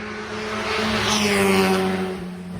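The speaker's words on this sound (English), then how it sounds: "I hear a motorcycle coming, so there's the road" A motorcycle passes close by at speed on a road, its engine drone rising to a peak and then easing off as it moves away.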